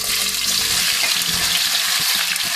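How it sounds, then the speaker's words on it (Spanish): Onion and carrot sizzle in hot oil, the oil already used to brown meat for an oxtail stew, giving a dense, steady crackling hiss up close with faint stirring clatter beneath and no voices. "Y ahora en este mismo aceite vamos a pochar la cebolla"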